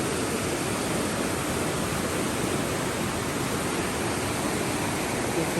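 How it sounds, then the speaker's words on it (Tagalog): Fast floodwater rushes through a farm after heavy rain, a steady, dense roar of moving water that stays close and unbroken throughout. "Tignan niyo din yung agos."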